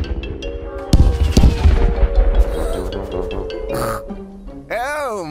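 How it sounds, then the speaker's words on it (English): Cartoon fireworks in a Peppa Pig episode burst in a cluster of loud bangs and crackles, followed by a pig-like oink and voices. "And now it's time for the big fireworks."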